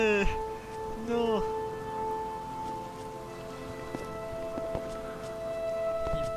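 Rain falls steadily in the Miasmata game, a soft continuous hiss of drops under tonal in-game sounds and someone talking at the start.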